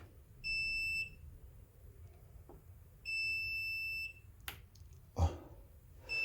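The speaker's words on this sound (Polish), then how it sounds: "to co pika, to pika czujka ta, co wyłączyła pompkę" A high electronic aquarium water level sensor alarm beeps in two sustained bursts, each about a second long, followed by a sharp clunk and some handling noise nearby.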